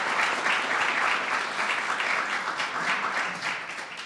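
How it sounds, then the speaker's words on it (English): An audience at a student venture incubator demo day breaks into sustained applause for mentors, a dense wash of clapping holding steady and then tapering off slightly toward the end. "So how about a round of applause for Ian and all of our mentors here today."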